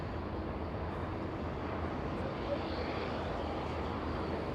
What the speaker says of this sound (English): A spectacular go-around by that 777.